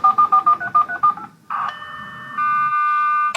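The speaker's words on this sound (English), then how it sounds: "Now it's starting to dial." Telephone modem dialing: a quick run of about eight DTMF tone beeps, then a burst of hissing handshake noise followed by sustained steady modem carrier tones, loud and close with no voices.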